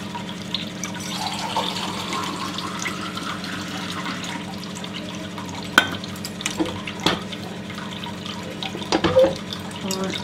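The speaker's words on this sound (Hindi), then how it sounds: "और आधा ग्लास से ज़्यादा पानी और है, जो मैं इसमें डाल रही हूँ।" A glass of water is poured into a cooking pot of khichdi, making a continuous splashing trickle. A few sharp clinks of utensils sound over it midway and near the end.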